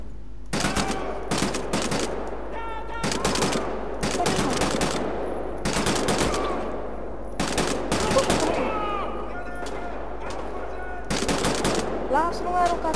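Video game gunfire in Wolfenstein, with repeated loud bursts of rapid machine-gun fire spaced through the scene, each burst lasting about a second, over steady background ambience and occasional talk.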